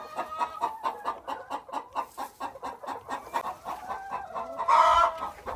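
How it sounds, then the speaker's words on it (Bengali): Hens on an Amish farm in Missouri cluck in a steady, rapid rhythmic series close to the listener, ending in a louder, more excited squawk near the end, with no talking. "তার মানে মুরগি যখন cock cock cock cock cock করবে"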